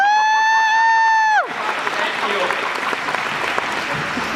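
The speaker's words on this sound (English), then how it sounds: "If you all can hear me, can you clap, please, and keep it going?" At a graduation ceremony a long sustained cheer or whoop runs for about a second and a half, then the audience breaks into dense, steady clapping that continues to the end, with a brief spoken thanks mixed in.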